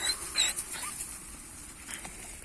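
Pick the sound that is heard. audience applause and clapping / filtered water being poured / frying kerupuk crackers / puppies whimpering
puppies whimpering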